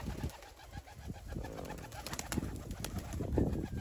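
Iranian pigeons in a loft coo in soft, repeated low calls, close and clear against light background noise, with no talking.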